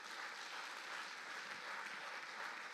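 A church congregation claps during a sermon, a faint, even wash of many hands heard from a distance with no voices over it.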